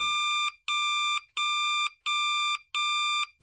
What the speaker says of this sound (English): the boy's alarm goes off.